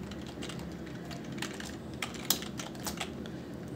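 Keys clatter on a computer keyboard while a number format is entered in Excel, with quick uneven taps and a few sharper clicks close to the mic, with no talking.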